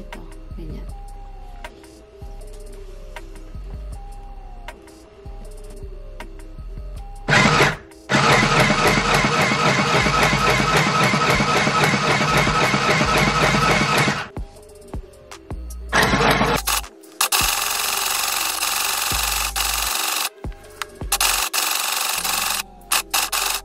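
A sewing machine stitching an apron dress runs in loud, steady whirring bursts of several seconds each, with short pauses between runs and a quieter stretch of ticking handling and light talk before the first run starts.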